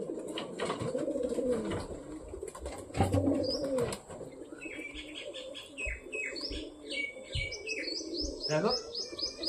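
A wild pigeon kept at home coos in low murmurs, later joined by quick, repeated high chirps from nearby birds, all fairly faint and close.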